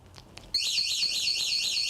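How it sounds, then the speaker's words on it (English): An e-bike's key fob alarm system wails loudly after a couple of faint chirps, a sustained warbling siren that sweeps up and down steadily without pause. "this one came with an alarm system too, which is pretty crazy"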